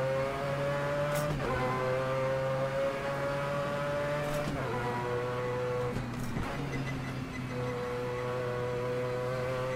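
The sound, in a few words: Mazda 787B race car engine at Spa, sim racing game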